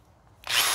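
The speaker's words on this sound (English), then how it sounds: "I'm just gonna go ahead and I'm just gonna drill these out." A power drill bores holes in a backyard build, spinning up abruptly after a brief quiet and whining loud and close for the rest of the moment.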